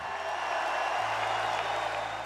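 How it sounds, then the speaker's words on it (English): Home crowd at Indiana's Assembly Hall giving coach Bob Knight a huge ovation, a dense, sustained roar of applause and cheering filling the arena, loud and continuous. "received a huge ovation from the home crowd"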